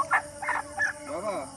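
A chicken clucks in short, close bursts, three quick clucks followed by a longer wavering squawk, with a little room noise behind.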